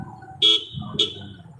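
An arriving car sounds its horn twice, a fairly loud toot followed by a shorter one, over a low engine hum.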